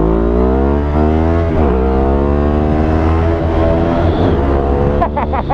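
A Ducati Hypermotard 821 motorcycle engine accelerates loudly and close, its rising, buzzing tone climbing steadily through the revs. Near the end it drops off and then gives a brief burst of throttle blips, with no voice over it.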